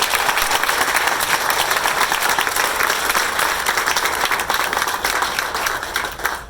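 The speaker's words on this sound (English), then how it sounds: "Let's give them a round of applause." A crowd at a Bryan Street groundbreaking ceremony gives a sustained round of applause, dense and even clapping from many hands that stays loud throughout and eases slightly at the very end.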